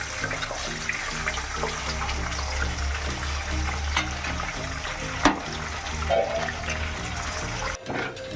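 Scrambled egg and vegetables fry in a pan with a steady, close sizzle and crackle that runs throughout, broken by a single sharp tap of a utensil and a brief clatter near the end.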